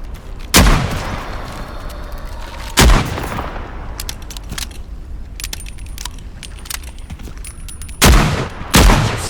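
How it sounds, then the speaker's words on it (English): Four loud, close shotgun blasts in Into the Radius 2, spaced irregularly with long gaps between the first two and a quick pair near the end, over a low background of game noise and small clicks. "Shotgun this asshole."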